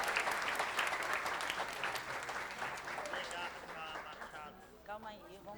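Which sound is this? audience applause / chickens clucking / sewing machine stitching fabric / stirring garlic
audience applause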